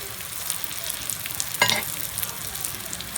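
Vegetable kebabs frying in hot oil: a steady, dense sizzle with one short sharp scrape or spatter partway through, close and even, and no voices.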